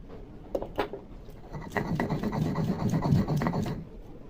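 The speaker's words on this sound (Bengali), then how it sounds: "কাঁচা লঙ্কা আর পেঁয়াজ একসাথে বেটে নেব।" Green chillies, onion and garlic with salt ground into a paste by hand, giving rough, rhythmic rubbing and rasping strokes that swell in the middle and fade near the end, close up with no talk.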